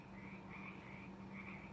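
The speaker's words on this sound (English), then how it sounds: "My mom says, I really like the frogs." Frogs croak outside at night, heard through an open garage: a faint, continuous chorus of rhythmic pulsing calls.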